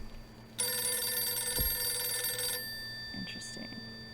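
A telephone in the horror game Visage rings loudly for about two seconds with a bright, steady electronic trill, then cuts off, leaving a low room hum and a few faint sounds of a person speaking.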